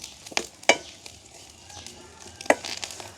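Mustard and fennel seeds tempering in hot oil, a soft continuous sizzle broken by a few sharp, loud pops and crackles, close up with no voices.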